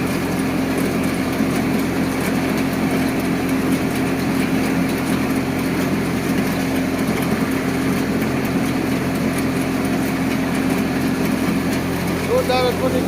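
A Param Tokri model thresher runs steadily while threshing ajwain, a loud continuous mechanical drone and rattle with no letup, and people talk over it.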